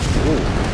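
A tank fires an artillery shot in the video game ShellShock Live, giving a short, loud, booming blast with a rumbling tail and a brief rising whistle of the shell.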